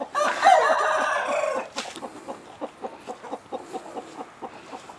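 A small flock of five or six backyard hens clucks in a rapid, overlapping chorus for nearly two seconds, after which a steady string of short, evenly spaced clucks carries on near the microphone with no talking.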